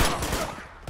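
A quick burst of gunfire from Uncharted 2: Among Thieves, several rapid loud shots packed into under a second, close and punchy.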